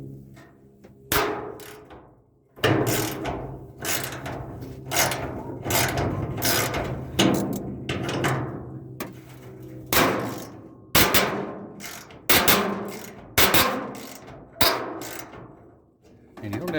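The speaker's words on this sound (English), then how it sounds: "go ahead and remove the two 1/2-inch bolts" Two half-inch bolts being loosened on a full-size Jeep hood release lever, a series of repeated ratcheting and scraping metal clicks in uneven bursts at close range, with faint background talk.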